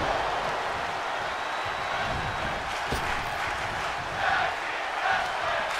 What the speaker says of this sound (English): Tag team wrestling chants, that's new.